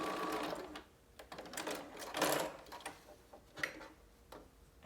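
Sewing machine stitching the bottom of a small fabric tube, a quiet, close run of rapid ticking stitches in short bursts with brief pauses.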